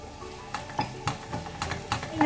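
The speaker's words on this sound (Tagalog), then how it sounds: "ilalagay na natin yung onion natin. Igigisa na natin" Onions dropped into a hot pan for a pancit canton stir-fry, giving a soft sizzle with scattered stirring scrapes and light clinks of a utensil against the pan, close and moderately quiet.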